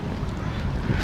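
Wind buffets the microphone at a seaside cafe on Binasi Beach, a steady loud low rumble with gusting swells and no voices.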